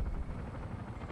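Helicopter rotor and engine noise from War Thunder, a steady low-frequency thrum that fills the moment at moderate volume with no talk over it.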